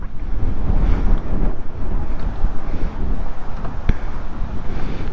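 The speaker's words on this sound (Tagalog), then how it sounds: "At malakas na ang hangin." Strong wind buffets the microphone during a motorcycle ride, a loud continuous roar with gusty low rumble and road noise throughout.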